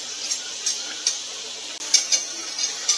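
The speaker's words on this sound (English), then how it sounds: "Give that a nice whisk." Whisk strokes through teriyaki sauce in a saucepan over medium-low heat: light, steady ticking scrapes at a fairly regular rhythm, close and fairly quiet, with no talking.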